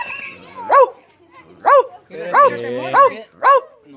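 A human voice imitates a dog barking, giving five short, yelping barks spaced about a second apart, close and loud, with faint murmuring between them.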